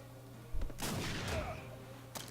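A single loud shotgun blast in Captain America: Super Soldier, with a rumbling tail and a fainter shot at the end.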